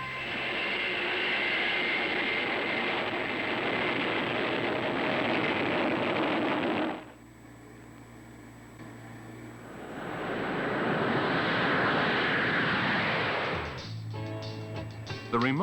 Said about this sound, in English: The remote pilot launches the aircraft basing his judgment on the nose-mounted TV camera